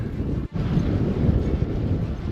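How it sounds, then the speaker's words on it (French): Wind roars steadily across the microphone in a broad, loud rumble while cycling outdoors in France, with one brief dropout and no voices. "Donc le vent souffle un petit peu."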